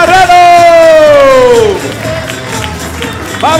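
An audience at a children's comedy contest show at César Manrique Cultural center applauds and cheers as performers take the stage. A loud voice calls out first, then a dense wash of crowd cheering and clapping follows.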